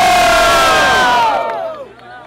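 A crowd at a Brazilian rap battle in Botafogo cheers and shouts loudly for a contestant, a dense roar that fades and thins out toward the end.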